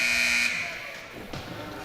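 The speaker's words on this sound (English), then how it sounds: "the buzzer sounds. And that will do it for the second period" A hockey arena buzzer sounds at the end of the second period, a loud sustained electronic tone lasting about half a second before cutting off into crowd noise and a commentator's voice.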